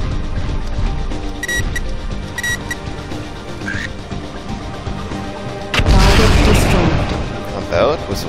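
A loud missile explosion booms in Mechwarrior 4 Mercenaries, a broad rumbling blast partway through after quieter mechanical and beeping game sounds. Voices talk over the mix.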